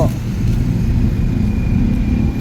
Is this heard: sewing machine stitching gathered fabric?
no